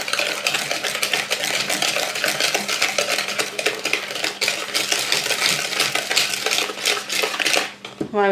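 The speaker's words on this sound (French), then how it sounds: "il faut mélanger jusqu'à ce que ça blanchisse bien et qu'on ne voit pas trop les cristaux de sucre" Sugar mixture being stirred in a bowl until pale, with a continuous brisk scraping and clinking of a utensil against the bowl in a fast, steady rhythm, loud and close, ending with a brief sharp tone.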